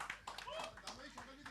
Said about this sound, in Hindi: धामा जी के लिए बहुत ज़्यादा तालियाँ प्लीज़